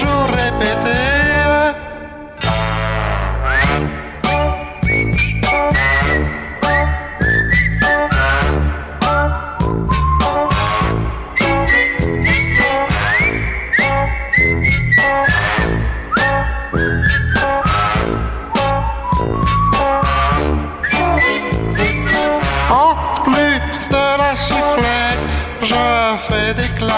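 A clear whistled melody carries a French pop song over full band backing, running steadily for nearly half a minute at a loud, even level.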